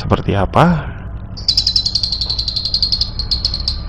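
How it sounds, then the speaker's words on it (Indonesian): A flock of birds sings in a dense run of rapid high chirps and trills, loud and close. A brief spoken voice comes just before the birdsong starts. "ini adalah suara kumpulan burung"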